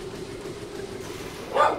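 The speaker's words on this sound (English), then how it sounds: "yes, that is the dog barking in the background." A single dog bark sounds in the background near the end, brief and moderately loud over a steady low hum of game audio.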